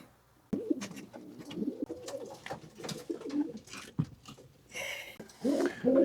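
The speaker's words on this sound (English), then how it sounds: "So I got a couple of slightly different age groups of pigeons, young birds." Young racing pigeons coo at a loft landing board, soft throaty coos repeating close by with faint shuffling and pecking between calls.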